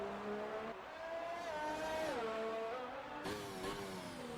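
A Mercedes race car in an Azerbaijan Grand Prix racing video game accelerates hard, its engine note climbing and dipping through gear changes with a steady, continuous whine and no talk over it.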